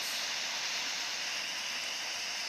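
A waterfall in the Roblox game Antarctica Expedition rushes in a steady, loud, broadband hiss with no breaks, filling the scene evenly.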